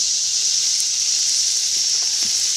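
Onions caramelize in a pan for canned onion soup, giving a loud continuous bright sizzle that stays even throughout, with a few faint clinks underneath.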